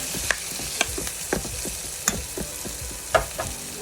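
Kangkong adobo sizzles in a pan as it is stirred, a soft crackling bed broken by several sharp scrapes and clinks of the utensil against the pan, with no voices.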